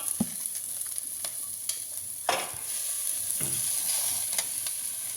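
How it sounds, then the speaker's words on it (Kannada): Chakramuni greens added to browned onions fry in a pan with a continuous sizzle, broken by several sharp scraping stirs of a spatula, close and fairly quiet, with no talk. "ಈ ಥರ ಆದಮೇಲೆ ಇವಾಗ ಸೊಪ್ಪು ಕೂಡ ಹಾಕ್ತಾಯಿದ್ದೀನಿ."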